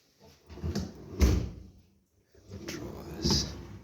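Kitchen drawers and soft-closing cabinet doors in a fitted kitchen with wine racks and a glass unit opening and closing, giving two separate bursts of muffled thumps and rolling slides with a brief sharper knock, close by with no talk.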